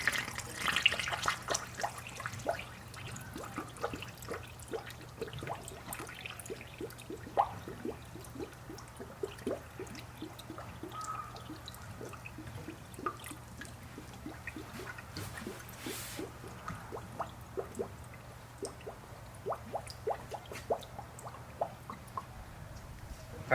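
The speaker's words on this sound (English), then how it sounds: "I'm just going to pour distilled water in here now." Distilled water poured into a Toyota Camry radiator after head gasket work, heard as a soft, steady trickle with scattered drips and small splashes continuing for over twenty seconds under a low background hum, with no talking.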